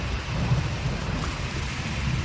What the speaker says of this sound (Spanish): la lluvia se está poniendo cada vez más fuerte